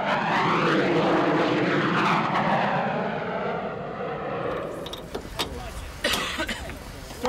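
The full-afterburning engine of a US Air Force Thunderbirds F-16 roars loudly for several seconds, its pitch sweeping as it passes, then fades into distant rumble with scattered clatter.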